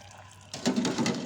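Cooked papaya leaves and anchovies drained from a hot pot, with a sudden rush of splashing liquid pouring out after a quiet start, close and steady.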